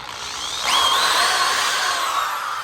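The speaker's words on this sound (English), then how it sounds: "Good power tool." A power tool whirs up and runs steadily with a high-pitched whine, close by, then holds its pitch for a couple of seconds.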